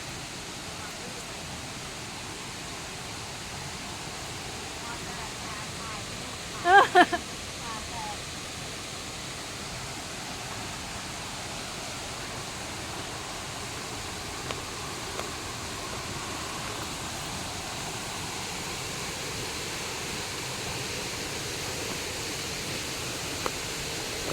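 Steady broadband rush of a waterfall in the cool season, even and continuous throughout, with a brief louder splash or knock near the start and a few faint clicks later.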